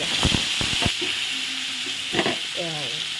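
Eggplant pieces dropped into hot oil with a ladle, setting off a steady crackling sizzle with a few sharp clacks at the start and a brief tonal scrape near the end.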